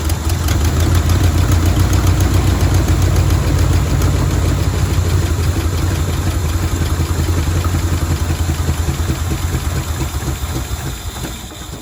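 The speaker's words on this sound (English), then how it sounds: "And it's idling great" A 1974 Chevy Square Body C20 pickup engine idles close by, a loud, steady low rumble with an even, slightly loping beat that eases a little toward the end.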